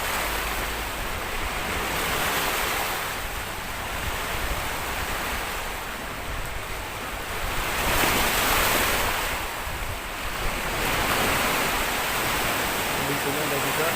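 Sea waves surge and wash steadily near a bamboo hut at Lhok Ketapang, Tapaktuan, late in the afternoon, a continuous broadband roar swelling in slow cycles with wind buffeting the microphone and no voices.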